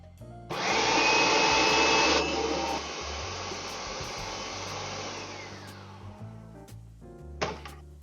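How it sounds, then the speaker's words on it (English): Large food processor blending fresh sweet basil pesto: a loud whirring motor starts abruptly, runs hard for a couple of seconds, settles into a lower churning drone, then stops, followed by a short final pulse. "I'm going to have to transfer everything we just did over to the big food processor. Now let's try to blend this up."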